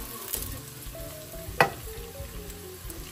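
Garlic dropped into overheated oil in a pan where onions are already cooking, a steady close sizzle with a sharp burst of crackling at the moment it hits, alone with no voices.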